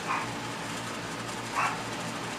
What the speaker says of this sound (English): I do apologize for the dogs barking.